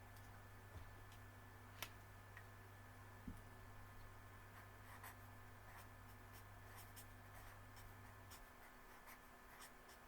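A pen scratches across paper while writing math notes, a steady faint scribble with a couple of small taps, alone over a low background hum.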